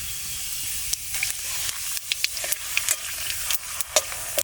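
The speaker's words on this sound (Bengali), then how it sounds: "ফোড়নে দিচ্ছি দুটো তেজপাতা দুটো শুকনো লঙ্কা একটু জিরে" Bay leaves, dried red chillies and cumin seeds crackle in hot oil left over from frying rupchanda fish, a steady close sizzle broken by sharp pops and spatula clicks against the pan.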